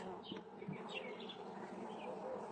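Honeybees buzz steadily at an opened hive during an inspection of frames, a faint continuous hum with scattered nearer passes of individual bees.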